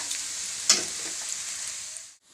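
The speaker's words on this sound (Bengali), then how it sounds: "খুব একটা বেশি ভাজবো না অল্প ভাজলে আমি নামিয়ে নেব এই গাজরটা" Carrots lightly salted fry in a pan with a continuous bright sizzle and one clear stir near the start, then the hiss cuts off abruptly at the end.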